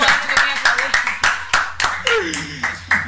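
Several people clap for a guest during a live IRL Twitch stream, about ten sharp, evenly spaced claps ringing out close by, with voices and background chatter running underneath.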